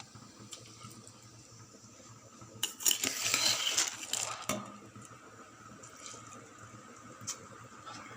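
Water pours into a pot of rice for chicken biryani for a few seconds, a splashing rush amid quiet kitchen clinks before and after.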